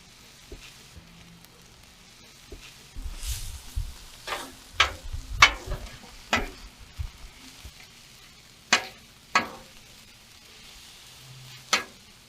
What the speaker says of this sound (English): I'm going to mix in some of the onions.